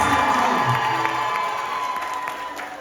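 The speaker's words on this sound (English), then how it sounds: "I want you to give the parents of Randy a nice round of applause" Wedding guests at a Hindu Vivaah Sanskar ceremony applaud and cheer loudly together, a dense sustained wash of clapping with whoops that tapers slightly toward the end.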